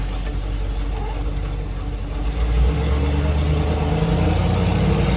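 An old car driven for the first time in ten years rumbles along, its engine a steady low drone that swells into a heavier, louder growl partway through, with no talking.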